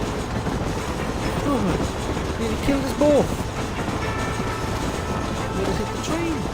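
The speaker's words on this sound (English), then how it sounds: "Nearly hit the train!" A train in the Red Dead Redemption video game rumbles past close by as a steady, dense roar under excited talk from a player.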